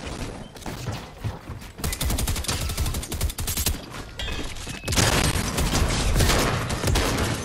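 Video game gunfire crackles in dense rapid bursts, with automatic fire rattling close and loud throughout and a heavier volley near the end, no talk over it.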